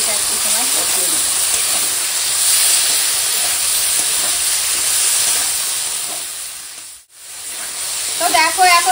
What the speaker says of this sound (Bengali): এখন মশলাটা দিয়ে এখন সবজিটা একটু সময় কষিয়ে নেব